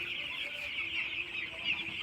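Young broiler chickens about ten days old peep and cluck together in a poultry shed, a continuous close chorus of high chirps with no talking.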